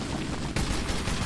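Sustained gunfire from the Metro 2033 Redux video game, aimed at a vehicle, bursts in loud and dense at once after a quieter rumbling lead-in and keeps pounding without a break.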